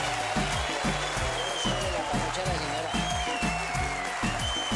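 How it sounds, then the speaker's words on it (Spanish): A dense wash of audience applause fills the whole stretch while someone speaks over it and faint music hums underneath. "un aplauso para Soacha,"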